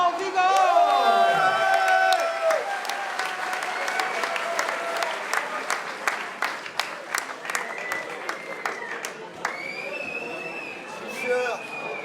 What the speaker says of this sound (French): Merci d'applaudir monsieur Alban Vigo.